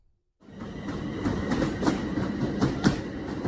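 A train to St Albans Abbey on the Abbey Line pulls away into the distance after a moment of silence, its steady rumble carrying rhythmic wheel clicks and occasional louder clacks over the rails.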